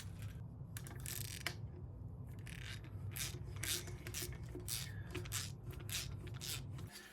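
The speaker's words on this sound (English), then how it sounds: "make sure we loosen that up. It looks like it's actually like a really low-key Allen wrench there" An Allen wrench loosening the exhaust clamp on a BMW F750GS / F850GS motorcycle, scraping and rasping metal turns repeated over a steady low hum, close and fairly quiet with no talk.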